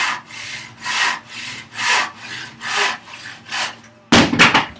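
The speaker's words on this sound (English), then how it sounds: "That's the great thing about sawing by hand. You can hear it when the cut comes to an end." A hand saw cuts through wood at a carpenter's workbench, making about seven rhythmic back-and-forth rasping strokes, close and clear. It ends in a quick, sharper flurry as the cut breaks through.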